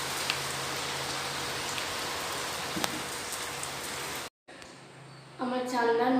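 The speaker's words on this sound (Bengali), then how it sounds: "বৃষ্টি শুরু হয়ে গেছে।" Steady rain falls outdoors, a dense hiss of drops over the first four seconds, then the sound cuts out briefly and returns quieter as a voice begins speaking over it.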